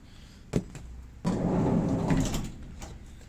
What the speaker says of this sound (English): The sliding door goes rather well